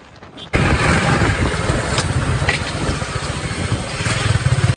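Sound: Kawasaki motorcycle engine running

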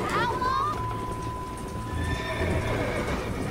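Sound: horse neighing in Red Dead Redemption video game

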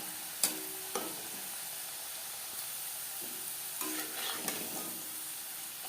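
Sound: potato french fries frying in hot oil

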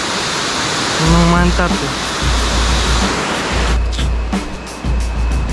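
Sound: Wardo waterfall roaring

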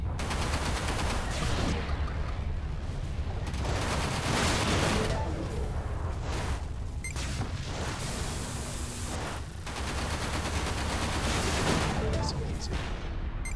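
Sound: gunfire in the video game Everspace

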